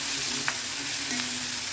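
Snake gourd seeds and onion sautéing in a pan for chutney, a continuous bright hiss of frying with a couple of faint stirring taps, close and steady without any talking.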